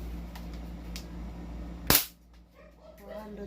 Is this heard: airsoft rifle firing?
yes